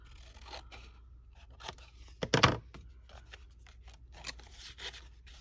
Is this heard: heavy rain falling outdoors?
no